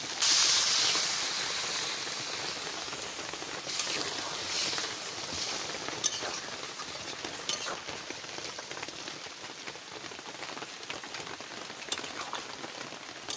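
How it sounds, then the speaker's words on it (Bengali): Water poured into a pan of browned, fried mutton curry raises a loud, steady hiss of steam and sizzle that slowly settles into a softer, continuous bubbling sizzle. "এইবারে আমি জল দিয়ে দেবো"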